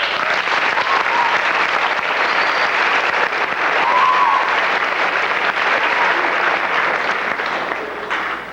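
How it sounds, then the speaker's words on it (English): A school assembly audience applauds steadily, a dense wash of many hands clapping that stays loud and even for the whole stretch. "So I like to give them another big round of applause."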